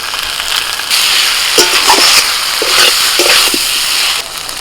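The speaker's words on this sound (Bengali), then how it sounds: "একটু নাড়াচাড়া করে নিয়ে দিয়ে দিচ্ছি টমেটো কুচি" Chopped tomato tumbling into a frying pan of sizzling oil and spice paste with some water, while a spoon stirs it in; steady close frying hiss with a few soft clacks and scrapes.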